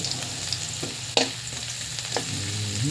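Garlic sizzles in oil while being stirred in a pan for milkfish (bangus) with black beans, a steady close frying hiss marked by a few quick scraping strokes, one sharper than the rest.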